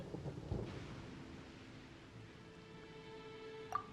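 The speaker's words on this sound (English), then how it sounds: "Paimon hears thunder!" Low distant thunder rumbles through a stormy scene in the video game Genshin Impact, a broad muffled roll fading out before a brief bright chime near the end.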